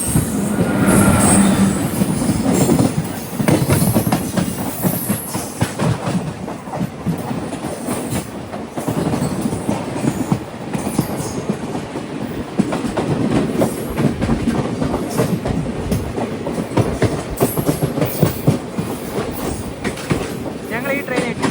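The West Coast Express rolls past close by, loud and sustained, with wheels clattering in quick rhythm over rail joints and occasional squealing, while voices are heard under the noise.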